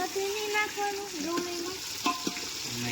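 Continuous sizzling of whole onions frying in hot oil with occasional stirring scrapes, a faint voice murmuring underneath.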